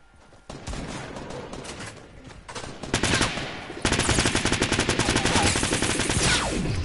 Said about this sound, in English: Yo, what are you shooting?